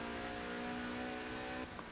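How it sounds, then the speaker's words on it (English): A stripped-down, no-nonsense Lotus sports car engine revs hard under acceleration, a loud steady harmonic whine that cuts off abruptly near the end, leaving faint background noise. "Nice sounding engine."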